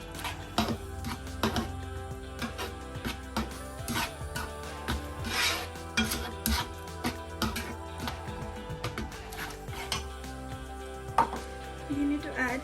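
Kimchi seasoning ingredients are mixed by hand in a bowl for traditional napa cabbage kimchi, giving close, irregular rubbing, squelching and scraping strokes with occasional knocks against the bowl.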